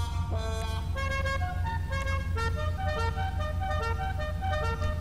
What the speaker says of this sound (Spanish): Claxon, hay un chingo, o sea, escuchen.